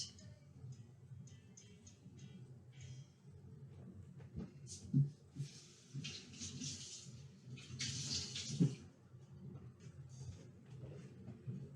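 Faint tap water runs as blueberries are rinsed, with soft splashing and uneven gushes, quiet and close.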